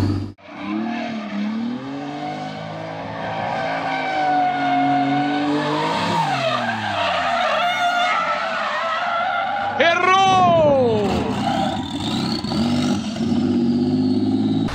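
A turbocharged Nissan 350Z is driven hard, its engine revving and climbing through gears with tires squealing and skidding, loud and close, while people talk over the car.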